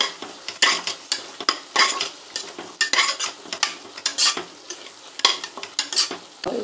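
Coriander and mint are stirred into sizzling ginger-garlic masala for green peas biryani. Close, rhythmic spoon scrapes and clatter over steady frying hiss, with no talking.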